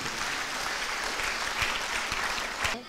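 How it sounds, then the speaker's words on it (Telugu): Audience clapping at a church golden jubilee feast program, a steady dense patter of many hands held for about three seconds with a few louder claps, then dropping off abruptly at the end. "చప్పట్లతో వారికి అభినందనలు తెలియజేద్దాం."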